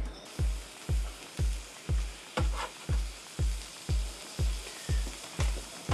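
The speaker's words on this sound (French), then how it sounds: "on va faire cuire les oignons en premier" Onions fry in a pan on a burner with a steady hissing sizzle, running beneath a regular thumping beat that pulses about twice a second.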